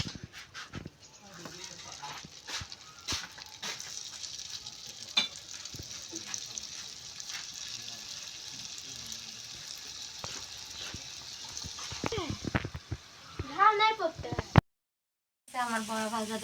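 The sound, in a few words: palm fruit fritters frying in oil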